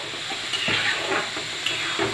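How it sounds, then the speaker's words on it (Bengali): Vegetables stir-fried in a pan on a gas burner in a Kolkata home kitchen give a close, steady sizzle, with scraping stirring strokes and occasional light clinks throughout. "সবজি ভাজার কাজ"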